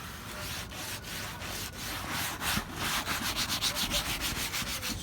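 Leather cleaner is scrubbed into leather with a brush, making close, steady rubbing strokes that turn into a quick rhythmic back-and-forth scrub toward the end.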